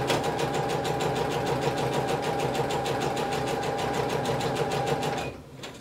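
A sewing machine stitches bias binding onto a kimono, running fast and steady with an even mechanical chatter and hum, then abruptly stops near the end.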